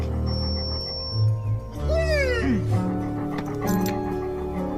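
A dog in a movie scene whimpers and gives short yips, heard as rising and falling high whines over a steady background of music and ambience.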